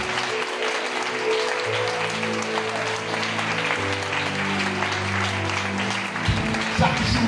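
A church congregation at an evening worship service applauds and cheers the Lord, steady dense clapping filling the room throughout, with voices and music mixed underneath.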